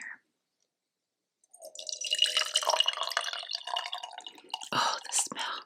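Earl Grey tea trickles and drips through a tea strainer close up, a soft, steady patter lasting a few seconds after a brief quiet start, with small clinks and splashes at the end.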